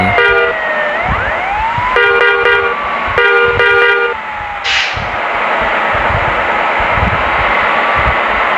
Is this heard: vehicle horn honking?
yes